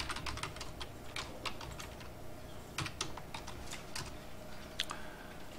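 Quick keystrokes on a computer keyboard during accounting data entry, a dense, irregular run of close clicks over a faint room hum, with no one speaking.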